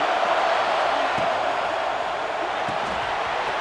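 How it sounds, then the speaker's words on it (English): A stadium crowd in EA Sports College Football 26 roars as a steady, dense wash of noise, holding constant throughout with faint scattered thuds underneath. "The roar of the crowd trying to fuel this defense to keep them pinned in their own end."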